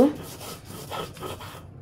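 Shrimp being ground by hand on a Bengali shil-pata stone, giving a close, steady wet rubbing and rasping of stone on stone in repeated strokes with no voices.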